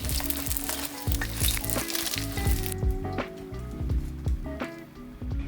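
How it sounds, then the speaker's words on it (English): Tofu pieces coated in potato starch frying in oil, a dense continuous sizzle with crackles and pops, close and steady, with a brief brighter burst early on. "I'm going to be lightly frying it in oil."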